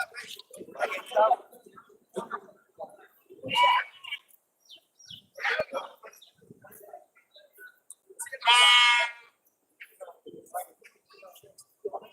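Young goats bleat at the Friday goat market in Ettayapuram, with short, fairly close cries breaking out now and then among people talking nearby.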